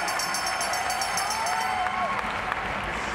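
A crowd at London 2012 Paralympic track cycling keeps up a continuous roar of cheering and applause through a men's C1-3 kilo ride, with a whistle-like tone and commentary faintly blended in.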